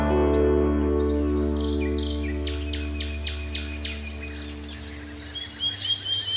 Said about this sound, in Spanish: Se oye perfectamente el canto de pájaros, como el petirrojo, el mirlo.